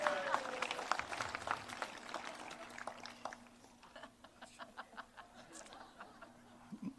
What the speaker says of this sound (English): give those four a nice big round of applause